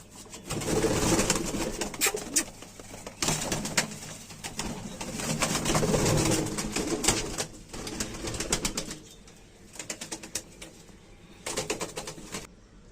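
Wild pigeons coo in soft, repeated bursts, close by and steady, with occasional rustling and wing flutters in between.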